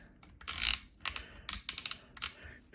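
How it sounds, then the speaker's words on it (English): Ratchet joint on a die-cast Transformers Grimlock toy clicking through its positions, several quick crisp clicks in bursts and separate snaps, close and clear with no speech. "The clickety joint"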